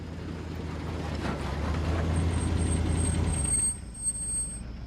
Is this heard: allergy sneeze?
no